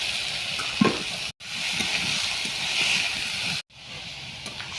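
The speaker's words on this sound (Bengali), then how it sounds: "মশলাটা কষানো হয়ে গেলে এবার বাঁধাকপি আলুটা দিয়ে দেবো।" Cabbage and potatoes hit a pan of fried spice masala with tomato, chilli powder and ginger paste, giving a steady nearby sizzle and hiss broken by two brief drops to silence, with no talk.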